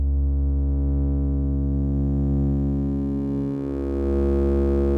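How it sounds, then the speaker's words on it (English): A steady, loud Serum 2 synthesizer tone, smooth and pure like a sine wave, holding for several seconds with a brief dip in pitch partway through. "So we start with more of a sine wave."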